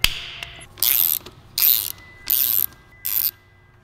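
A 13 mm socket wrench ratcheting nuts off a power washer pump, four short bursts of rapid clicking separated by brief pauses, close and crisp.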